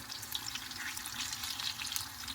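Sweet vada frying in hot oil, a steady, close crackling sizzle that holds at an even level throughout without pauses or talk.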